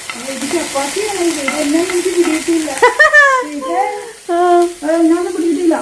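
Carrots and chopped chapati noodles are stir-fried in a pan after a sprinkle of water, giving a loud, close sizzle with steady stirring scrapes, while someone talks over it.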